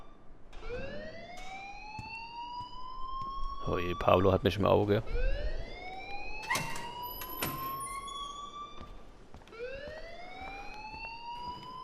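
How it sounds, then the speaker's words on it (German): An alarm ringing in the video game Life Is Strange, a repeating rising siren-like wail cycling steadily throughout, with a burst of other noise in between and a voice talking over it. "please turn off that alarm since that's your job"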